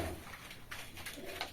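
Pigeons coo in a pigeon house holding about sixty local Deshi, Siraji and Lotan birds. Soft, low, steady cooing continues throughout with faint rustling and scattered higher chirps over a constant background.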